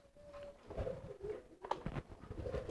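A homing pigeon coos softly and close up, with low throaty murmurs repeating in uneven bursts over light background rustling.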